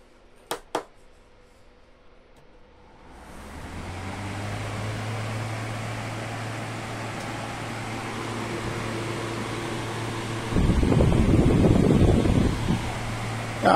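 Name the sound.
air cooler running with fan and water flow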